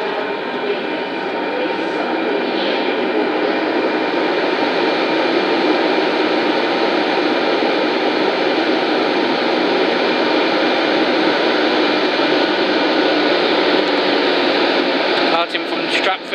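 A Greater Anglia service hauled by electric locomotive 90007 departing Stratford for London Liverpool Street, heard as a loud, steady broadband roar and hum of the train that holds throughout, with a brief disturbance near the end.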